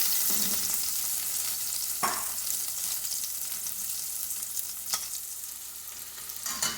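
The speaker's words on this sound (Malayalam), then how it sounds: "ബാക്കിയും കൂടെ ഫ്രൈ ചെയ്തെടുക്കാം." Chicken pieces for butter chicken sizzle steadily in hot oil, a continuous close frying hiss broken by a few sharp clinks of a utensil.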